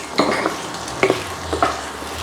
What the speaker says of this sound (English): give it a little bit of a stir, and we're just going to fry it off a little bit.